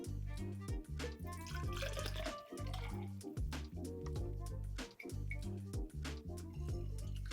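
Sweet vermouth, Carpano Antica Formula, pours into a vessel for a cocktail, a continuous close liquid gurgle and trickle with pulsing glugs as it flows.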